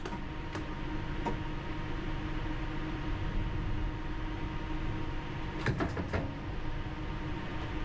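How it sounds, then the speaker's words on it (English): London Underground train on the Piccadilly line departing a station, a steady low rumble and hiss of the moving train with a few sharp clicks and rattles from the carriage, heard from inside the driver's cab. "This train is ready to depart."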